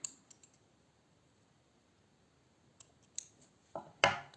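Scissors snip through a crochet yarn tail, a few faint clicks followed by two sharp, close cuts near the end in an otherwise quiet room.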